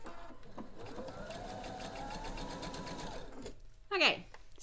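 A domestic sewing machine stitches a seam in a steady, rapid mechanical whir close by, running for several seconds before stopping, followed by a short sharp squeak or clatter.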